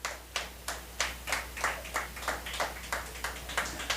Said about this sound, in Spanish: ¿Cuántos le dan palmas al Señor?